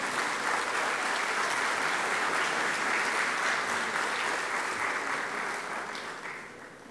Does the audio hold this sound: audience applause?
yes